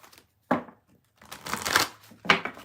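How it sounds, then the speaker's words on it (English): Tarot cards being shuffled by hand, heard as a few short papery riffling bursts with brief pauses between them, close and fairly quiet. "I'll keep shuffling."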